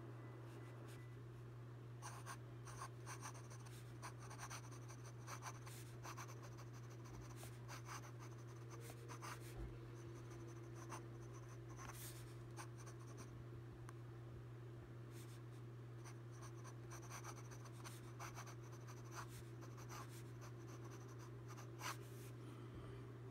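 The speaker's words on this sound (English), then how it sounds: "Some fast writing." Fast handwriting with a Pilot Custom 845 fountain pen fitted with a fine nib, giving a soft, steady scratching of nib on paper that runs through the whole stretch over a low constant hum, with no talking.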